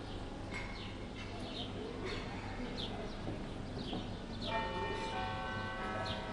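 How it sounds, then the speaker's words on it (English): Church bells ring from a distance on a riverside bridge in Ljubljana, soft tolls repeating under a steady outdoor city murmur, with pigeons cooing and birds chirping nearby. "You can hear church bells in the background."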